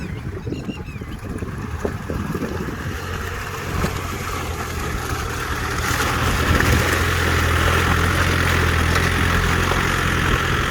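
A Yanmar EF514T tractor ploughs a waterlogged paddy field, its diesel engine droning steadily and growing louder and heavier midway, with wind-like broadband noise around it.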